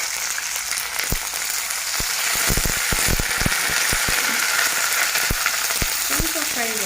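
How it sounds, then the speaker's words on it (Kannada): Three chilies and curry leaves frying in hot oil for a carrot sabji, a loud dense sizzle running throughout, punctuated by sharp spatters and clicks of stirring close by. "ಸ್ವಲ್ಪ ಫ್ರೈ ಆಗಬೇಕು. ಇದೆಲ್ಲ ಚೆನ್ನಾಗಿ ಫ್ರೈ ಆಗೈತಿ."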